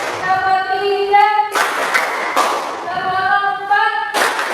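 A classroom of students claps in rhythm, with brief bursts of group clapping answering a teacher's counted calls, her voice heard between the claps.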